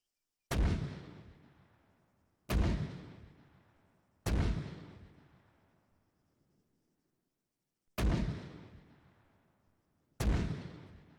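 Mortar rounds fire in the Arma military game with the ACE mod: five loud, separate booming reports spaced about two seconds apart, with one longer gap, each decaying into a rumbling tail with no talk.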